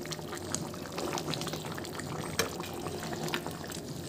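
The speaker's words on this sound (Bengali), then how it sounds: "এবার আমি একটু নেড়ে দেব।" Spicy chicken kasha with potatoes, nearly finished, is stirred in a pot, making a continuous wet bubbling and sloshing sound up close with a faint clink midway.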